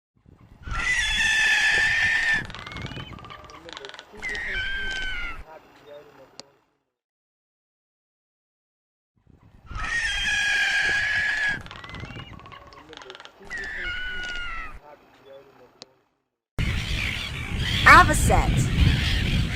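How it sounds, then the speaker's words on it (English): A frigate bird gives loud, harsh honking and rattling calls in two similar bouts separated by a silent gap, then a burst of broad noisy squawking from a colony closes the sequence. "Frigate bird."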